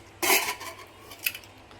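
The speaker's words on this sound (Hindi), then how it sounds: "अब जो है ना ये कुकर खोल लेती हूँ, इसकी सारी स्टीम निकल चुकी है" A pressure cooker lid is opened in a home kitchen after its steam has been released, giving a loud metallic clank and scrape, then a second, lighter clink of metal.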